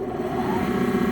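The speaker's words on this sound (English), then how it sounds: "There's the motor start." A Heyligenstaedt lathe motor starts up with a steady mid-pitched drone and layered hum that holds loud and even throughout, close by with no talking over it.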